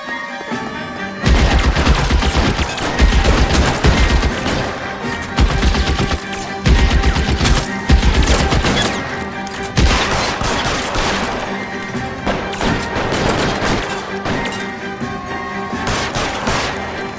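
A shootout in the video game L.A. Noire: dense bursts of gunfire with rapid volleys, cracks and crashing impacts, loud and sustained across the whole stretch with short gaps between heavy flurries.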